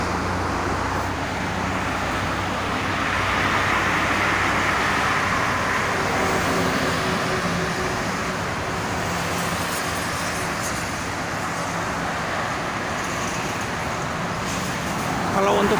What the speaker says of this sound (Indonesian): Sangat ramai, itu mobil-mobil pribadi ya.